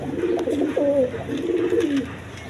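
Pigeons cooing close by at a breeder's stall, a few overlapping soft, throaty rolling coos that rise and fall over about two and a half seconds with no one talking.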